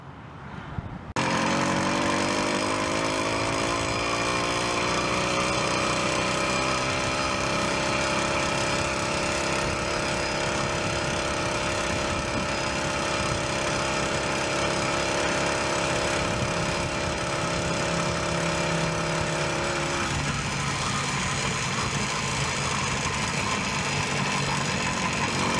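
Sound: motorized bike engine running and revving, losing power

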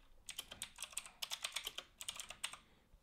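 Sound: typing notes on a computer keyboard

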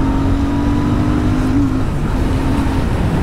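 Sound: motorcycle engine revving

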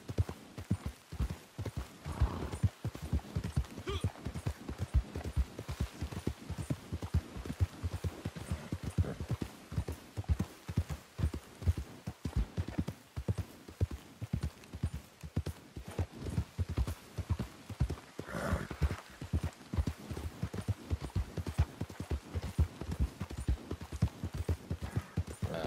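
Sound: horse galloping while riding, from video game Red Dead Redemption 2

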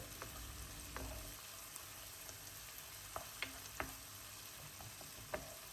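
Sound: pepper and tomato paste sizzling while being sautéed in a pan

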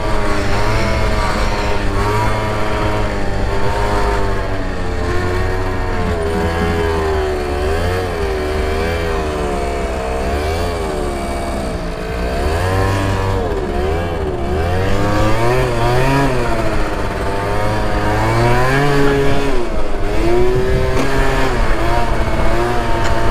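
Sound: motorcycle accelerating while riding

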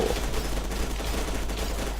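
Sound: gunfire in the video game F.E.A.R. 2

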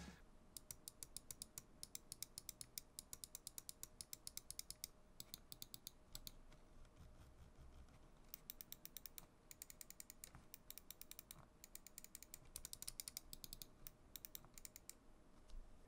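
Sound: Xtrfy M4 RGB gaming mouse button and scroll wheel clicks

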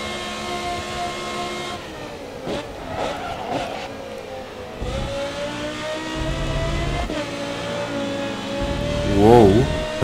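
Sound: race car engine from video game Grid Autosport

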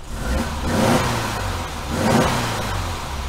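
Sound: car engine running

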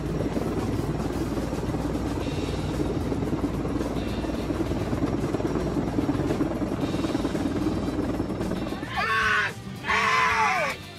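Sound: helicopter carrying a massive air conditioner

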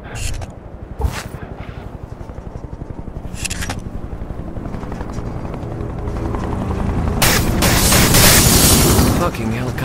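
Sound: helicopter in the video game Wanted: Weapons of Fate

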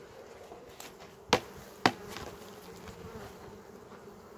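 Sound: honeybees buzzing at an open beehive during spring inspection

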